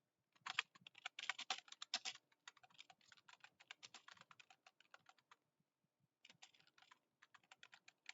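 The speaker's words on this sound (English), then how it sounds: "Let me type it very badly" Fingers tap quickly on a computer keyboard in close, bursty runs of clicks, with a short pause before the typing resumes.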